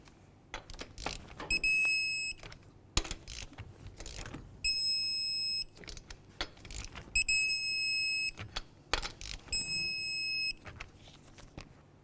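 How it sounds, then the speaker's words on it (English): A torque wrench tightens the wheel lug nuts on a 2004–2006 Scion xB in a crisscross pattern, with several sharp clicks and clanks interspersed between repeated high electronic beeps, close and fairly quiet. "let's continue torquing these to that 76 foot-pounds in a crisscross manner"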